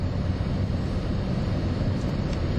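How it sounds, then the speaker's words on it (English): A plane, apparently bound for Albany, flies overhead as a steady, broad low rumble that holds evenly through the whole stretch with no voices. "Now that plane is going to Albany."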